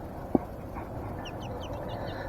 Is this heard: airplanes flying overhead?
no